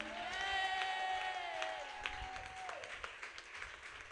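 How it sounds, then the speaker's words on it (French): Church congregation applauding and cheering, a crowd of clapping hands and voices under a sustained shout or singing voice, fading into scattered claps. "Merci de m'avoir acclamé"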